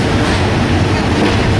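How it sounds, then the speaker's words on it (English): A passenger train travels from Bangkok to Pattaya, a loud, close, steady rumble of wheels and carriage noise filling the whole stretch without any voices. "We take a train from Bangkok to Pattaya."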